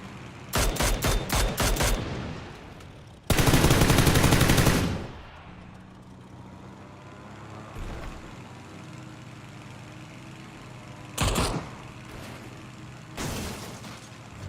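Bursts of automatic gunfire in the video game PUBG: two loud rapid volleys near the start, then quieter scattered shots and short bursts over a low engine-like background.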